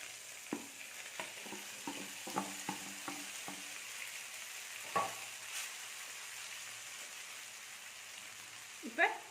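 Idiyappam is tossed with tomato peas masala in a pan over a low flame. A soft, quiet background hiss runs under a series of light utensil taps and scrapes, with a few louder knocks near the end.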